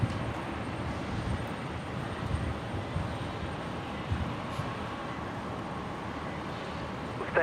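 An airliner taxis back along the runway at Brisbane International Airport, a steady broadband engine roar that holds evenly throughout with no voices.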